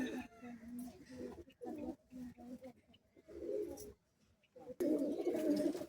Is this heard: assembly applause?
no